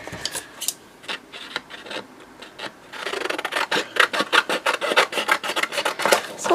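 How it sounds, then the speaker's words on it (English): Scissors or a blade trimming the white edge off a book page, giving a dry rasping cut that turns into a steady run of rapid papery snips and scrapes, close and fairly loud with no talking. "so let's just trim this white off"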